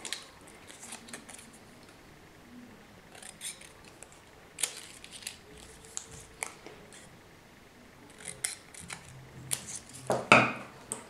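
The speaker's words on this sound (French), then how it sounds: "J'obtiens bien 4 morceaux identiques que je vais découper." Scissors snip through a paper circle to cut it into four equal pieces. The cuts come as short, scattered clicks and crisp slices at close range, with the loudest snips near the end and no voices.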